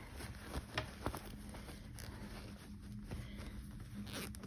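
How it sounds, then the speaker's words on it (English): A small zipper rasps open up close in soft, uneven bursts, with light fabric rustling around it. "open your zipper from the inside."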